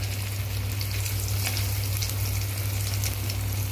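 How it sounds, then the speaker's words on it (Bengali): Mustard oil heating in a pan for frying potato lollipops gives a steady, even sizzle with faint crackling throughout, close and alone, no voices. "তেল এখানে গরম করতে দিয়েছি। আপনারা অবশ্যই সাদা তেলে ভাজতে পারেন, কিন্তু আমরা সর্ষের তেলে ভাজবো"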